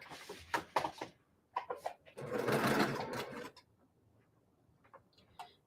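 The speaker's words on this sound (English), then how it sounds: "I'm going to sew" A domestic sewing machine stitches quilt pieces in a short whirring burst, with light ticking and handling clicks before and after it, all close up and fairly quiet.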